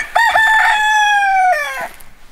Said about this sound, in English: that's a rooster, by the way.